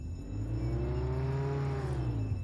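A car engine in the Roblox Jailbreak video game hums and revs, its pitch climbing and then easing back down in a steady, close, continuous drone.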